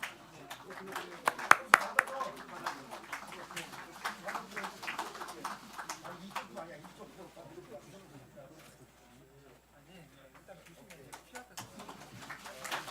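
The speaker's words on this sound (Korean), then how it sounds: "여러분 뜨거운 격려의 박수 부탁드리겠습니다" Applause breaks out among party lawmakers at a general assembly, loudest early on and then thinning to scattered clapping, while a voice keeps speaking over it.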